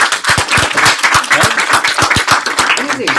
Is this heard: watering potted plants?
no